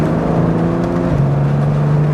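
A BMW 335i engine revs close by, its loud steady hum sliding to a lower pitch partway through and then holding there.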